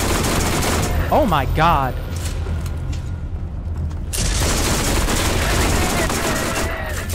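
A high fire rate gun in Borderlands unleashes dense, rapid automatic fire, loud and continuous throughout, with a brief excited exclamation from a voice over the shooting.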